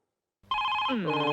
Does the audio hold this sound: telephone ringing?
yes